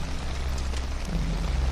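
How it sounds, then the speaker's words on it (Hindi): Heavy rain in a cartoon horror story: a dense, steady wash of falling rain with a low rumbling undertone, continuous and fairly loud, with no voices. "बारिश तेज हो रही है।"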